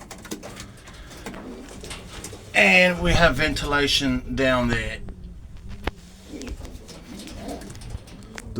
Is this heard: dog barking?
no